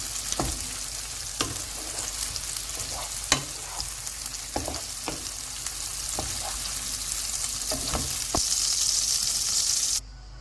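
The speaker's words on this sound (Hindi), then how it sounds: "सब्जियों को हम 3 मिनट तक फ्राई करेंगे।" Vegetables with salt frying in a pan make a continuous sizzle, broken by sharp clicks and taps of a spatula at uneven intervals, then stop abruptly near the end.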